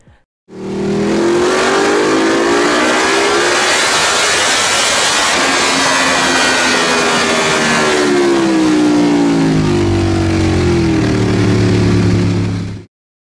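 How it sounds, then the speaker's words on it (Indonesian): A loud Ducati motorcycle engine revs hard and climbs in pitch, holding a roaring, rasping tone before easing off and revving again, with no voices. "menjadikan mesin Ducati punya suara yang lebih berisik"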